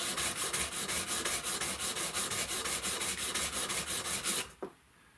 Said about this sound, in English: So I could just take this block, right, and just sand away till we get down to the middle.